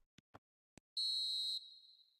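A referee's whistle ends a match with one long, loud, shrill blast that holds steady and then tails off, preceded by a few short knocks and thumps.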